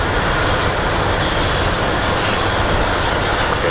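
A large airliner on approach into Phoenix Sky Harbor airport, a steady, loud broadband engine roar that holds evenly throughout with no pauses.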